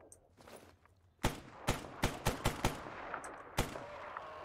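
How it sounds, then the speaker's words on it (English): Weapons fire in the shooter game S.T.A.L.K.E.R. Anomaly: after a quiet opening, a close, loud run of about six sharp gunshots cracks out in quick succession, with lighter pops fading behind. "Somebody just shot right at us."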